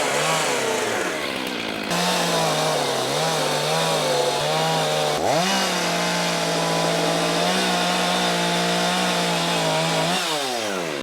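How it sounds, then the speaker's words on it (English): A miter saw cuts pallet wood at a sawmill, its motor whining loud and steady for several seconds with a change in pitch partway through as the blade bites, then spinning down at the end. "We take our trusty miter saw."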